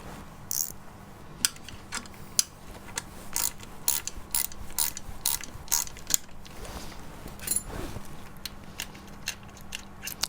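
A stud on a TZR 250 motorcycle chain adjuster being unscrewed with two 10mm spanners locked together, giving a run of sharp metallic clicks and ratcheting ticks in an irregular rhythm, close and fairly crisp, with no voices.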